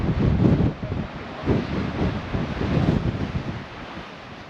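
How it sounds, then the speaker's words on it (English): Surf rolls in and heavy wind buffets the microphone on the Nazaré coast during a big-wave warning. The roar is loud, dense and continuous, with wave surges swelling and fading, and no voices are heard. "Oh, sea foam hit me from behind."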